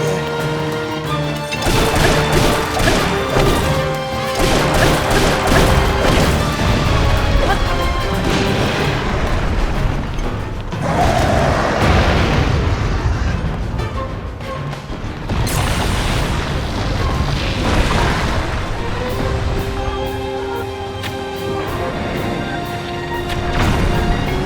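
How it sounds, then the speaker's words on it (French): Rock blasted apart in Zelda: Tears of the Kingdom, heard as heavy booming crashes and rumbling impacts over continuous loud game music, with bursts recurring through the passage. "Ce rocher a explosé"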